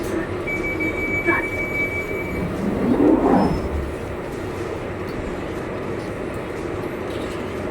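A train runs steadily with a continuous low rumble, a faint tonal whine early and a short squeal of wheels swelling around three seconds before settling back to the even drone.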